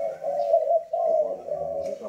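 A spotted dove cooing close by, a low steady hooting call in sustained phrases, loud and alone.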